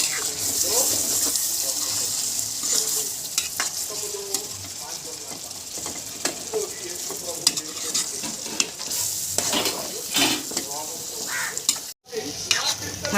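Green chicken curry is stirred in a pan once the oil has separated. Irregular scraping and mixing strokes run over a constant sizzling hiss, close and fairly loud, with a brief break near the end.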